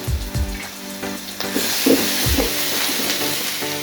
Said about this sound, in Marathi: हे वाटण असं छानपैकी असं फ्राय करून घ्यायचं